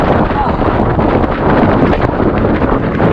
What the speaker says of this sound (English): How's that headwind going, Matthew?